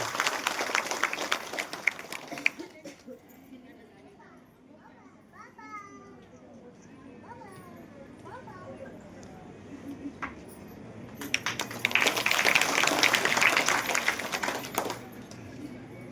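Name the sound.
audience applause welcoming guest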